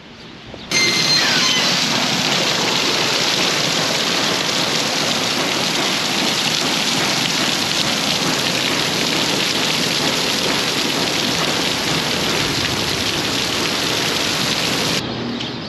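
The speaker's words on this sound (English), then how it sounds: "Just a solid inch of rain within half an hour." Heavy rain pours down steadily and loudly during a storm, about an inch within half an hour, a dense continuous roar with low thunder rumbling underneath, no voices present.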